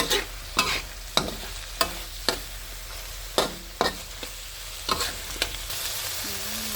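Fried pork cracklings are stirred into chili paste in a pan. A spoon scrapes in sharp, evenly spaced strokes, close and clear, over a low sizzle, with no talking.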